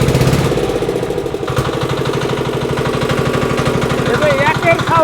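A second-hand Saifeng Changchai diesel engine, 25 HP, runs close by with a loud, steady rapid thumping beat; people talk over it.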